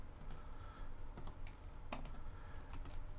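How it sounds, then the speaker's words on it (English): Quiet, irregular clicks of typing on a computer keyboard while coding, scattered taps with one sharper keystroke near the middle, and no talk. "Keyboard work here."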